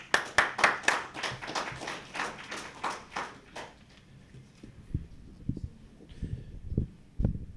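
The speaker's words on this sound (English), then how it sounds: "please give him a round of applause." A short burst of clapping from a small group at a book talk, fading out within a few seconds into quiet room noise and a few thumps.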